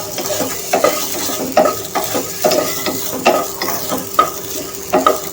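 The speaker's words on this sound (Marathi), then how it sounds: "आता आपण ह्याच्यामध्ये साबुदाणे टाकून परतून घेणार आहे 2 मिनिटं तुपामध्ये" Sago pearls being sautéed in ghee for sabudana kheer, a steady close sizzle broken by repeated scraping stirs of a spoon against the pan, roughly one every half second.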